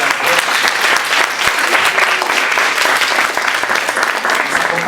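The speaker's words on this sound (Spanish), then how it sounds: "Un aplauso para la..." Loud, dense audience applause at a book presentation, sustained and even throughout with no break, filling the room.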